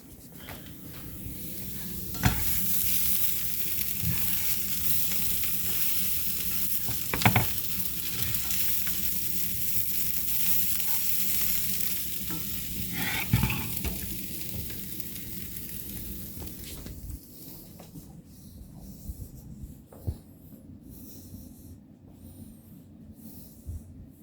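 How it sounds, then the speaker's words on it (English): Potatoes frying in a pan sizzle loudly and continuously, with a few sharp scraping stirs, before the sizzle drops to a quieter crackle near the end. "Got to stir the potatoes again."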